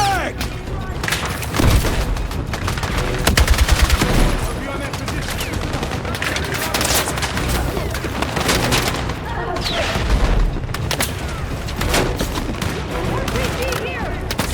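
Frag grenade explosions and rapid gunfire from a Battlefield 6 campaign battle, with dense bursts, booming blasts around the two- to four-second and ten-second marks, and continuous combat noise throughout.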